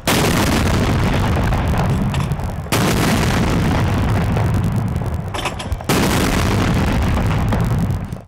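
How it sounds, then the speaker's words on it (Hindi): Three loud cannon shots ring out one after another during a 21-gun salute in Pakistan, each boom close and heavy and rolling into a long echoing decay before the next. "दिन का आगाज विफाकी दारुल हुकूमत में 31 और सूबों में 21-21 तोपों की सलामी से हुआ।"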